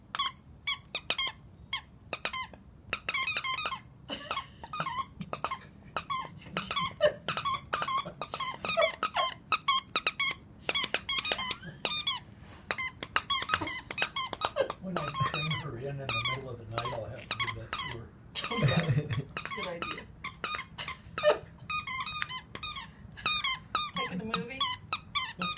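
A dog's squeaky toy squeaks in rapid, repeated bursts close by, high and sharp, while a person talks throughout.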